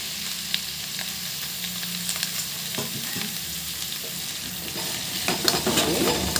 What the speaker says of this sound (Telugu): ఆనియన్స్ని వేసుకోండి ఆనియన్స్ బాగా వేగనివ్వండి కలర్ మారే వరకు